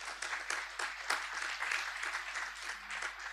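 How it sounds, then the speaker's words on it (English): At the Grenada Boys Secondary School 2020 graduation ceremony, the crowd applauds the basketball team in a full, sustained round of clapping in a large hall, with a low steady hum beneath it. "Let's give them a round of applause, please."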